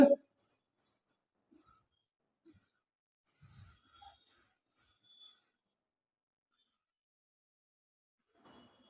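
Faint, scattered scratching strokes of writing on a board during a geography lesson, coming in short irregular bursts with quiet pauses and soft breathing between them.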